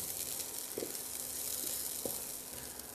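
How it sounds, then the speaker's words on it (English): Chopped onions sizzle in a hot pan for a Greek scramble breakfast, a steady close hiss with a few soft pops and scrapes, and no one talking. "you just saute the 1 tablespoon of onions for about a minute or so until it starts to get translucent"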